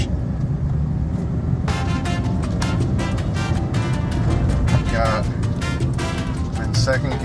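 A Honda Element with an all-wheel-drive transmission pulls onto Interstate 95, its engine and road noise forming a steady, loud cabin drone, joined partway through by bursts of wind and tire rumble.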